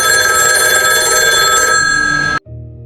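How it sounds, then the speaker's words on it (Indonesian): A telephone bell rings loudly and continuously, a bright sustained trill that cuts off abruptly near the end, leaving only a faint low hum. "terdengar suara telepon berdering"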